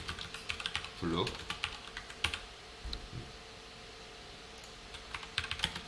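Code is typed on a computer keyboard in bursts of quick, close key clicks, with someone speaking Korean now and then between the keystrokes.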